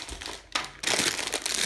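A thicker plastic pasta bag is handled for sealing, giving close, crisp crinkling: a brief rustle, a short pause, then a denser burst of crackling that carries on to the end.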